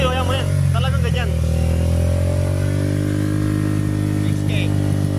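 A Honda Winner X 150 motorcycle fitted with an Espada exhaust pipe revs steadily and loudly up close, its engine drone holding a high, even pitch, while someone speaks briefly over the start.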